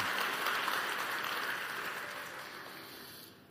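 Church congregation applause during a sermon, dense and steady at first, then slowly thinning and fading over a few seconds.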